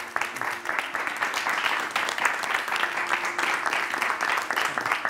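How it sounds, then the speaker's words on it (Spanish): A large audience gives warm applause to welcome a young general digestive surgeon onto a stage. Thick, continuous clapping stays steady and fairly close for about five seconds. "Un aplauso muy grande para Pablo Castillo."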